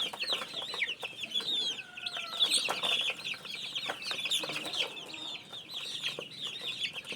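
Chickens and cockerels cluck constantly while pecking at bananas, a busy chorus of close, overlapping calls with no talking.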